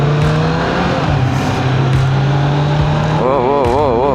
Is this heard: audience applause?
no